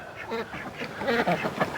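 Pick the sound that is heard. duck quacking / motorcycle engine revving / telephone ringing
duck quacking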